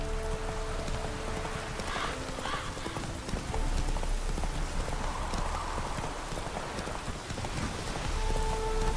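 Geralt's horse Roach gallops in The Witcher 3, hooves clip-clopping in a steady rhythm against a hissing, rain-like ambience, moderately loud throughout.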